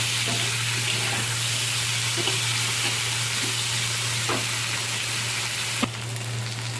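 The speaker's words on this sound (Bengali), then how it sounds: "এর সাথে আমি ভেজে নেব আলুর সাথে পেঁয়াজ আর কাঁচা লঙ্কাটা।" Potatoes fry with onion and green chili in hot oil, giving a constant close sizzle broken by a few soft scraping stirs, with no one talking.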